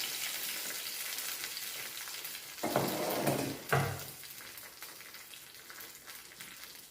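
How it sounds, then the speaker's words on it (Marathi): Coconut oil tadka poured into South Indian kadhi with okra, giving a sudden loud sizzling burst that flares twice, then settles into a steady frying hiss, close and without speech. "हा तडका जो आहे आपण केलेला नारळातल्या तेलाचा हा टाकणार आहे"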